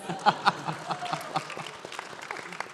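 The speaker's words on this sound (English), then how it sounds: "Applause for that, please" An audience applauding at a talk, scattered claps of moderate loudness that taper off, with voices in the room underneath.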